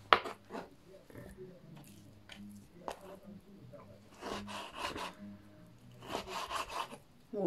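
A knife slices through pork belly with soft cartilage attached on a cutting board in a home kitchen, with soft scraping, rubbing strokes and occasional taps, close and quiet, while someone talks.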